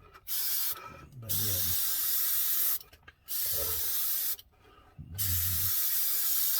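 An airbrush sprays dark track paint onto Dragon styrene tank tracks in three sustained hissing bursts separated by short pauses, with faint handling sounds in the gaps.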